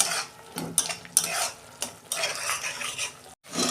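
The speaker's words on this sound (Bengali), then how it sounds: "আমি 2 মিনিট একটু মশলাটাকে কষে নেব।" Spice masala for a fish curry being fried and stirred in a pan, with repeated metal spoon scrapes and clinks against the pan over a soft sizzle; close and irregular, with a brief pause near the end and no speech.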